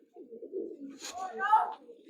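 Domestic pigeons coo close by in low, rolling bursts that repeat through the moment, with a short brighter call rising briefly in the middle.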